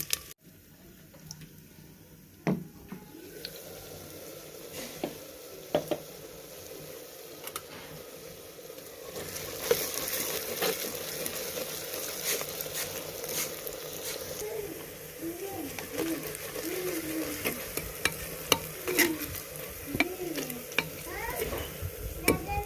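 Sliced onions fry in hot cooking oil for beef biryani. A soft, steady sizzle runs throughout, broken by frequent clicks and scrapes of a spoon stirring in the pot, with quiet speech in the background.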